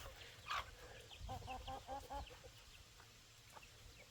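Baby chicks and young chickens in a backyard chicken pen, a short run of rhythmic clucking pulses mid-clip with a brief sharper call near the start, fairly close over quiet outdoor background.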